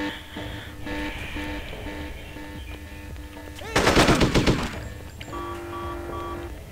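Gunfire in the Hitman 2 video game: a short, loud burst of rapid automatic shots breaks out over steady game music and ambience, then fades back to the background tones.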